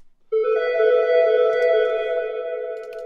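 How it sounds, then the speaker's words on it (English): A sustained electronic trance synth tone rings out, bright and close, with a lingering reverberant tail as it slowly fades. "bring up the reverb, dry signal all the way up"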